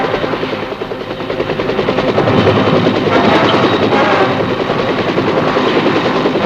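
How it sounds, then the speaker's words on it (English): Huey helicopter gunships fly low in support of ground troops, a loud, sustained rotor thump and turbine roar that swells as they pass overhead. "Air support of American ground troops and the use of high-speed Huey gunships"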